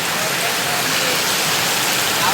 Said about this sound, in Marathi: आता बघा डायरेक्ट पाऊस इथपर्यंत येऊन राहिला मंडळी हे बघा पाऊस मध्येपर्यंत येतोय